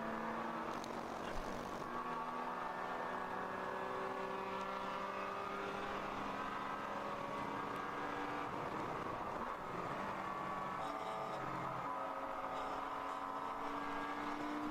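Porsche endurance race cars at Watkins Glen during a ChampCar Endurance Series race, their engines droning steadily at a distance with layered whining tones that shift in pitch as they pass, over constant track ambience.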